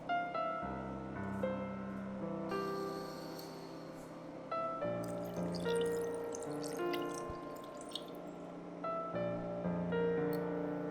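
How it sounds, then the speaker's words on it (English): Water splashes and trickles into a pot holding a duck for braising, a light pouring sound with gentle drips over a faint background hum. "add in enough water to almost cover the duck."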